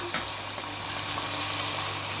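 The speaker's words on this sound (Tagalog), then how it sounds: "Ilalagay na po natin yung ating isda." Two pieces of alumahan (mackerel) fish frying in boiling oil in a pan, giving a steady, dense sizzle and crackle that stays close and even throughout, with no talking.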